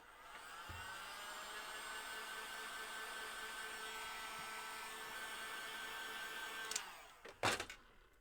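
A hair dryer runs continuously at close range, blowing on freshly painted paintbrush decor with a steady whirring hum for several seconds, then cuts off and is followed by a couple of brief handling knocks.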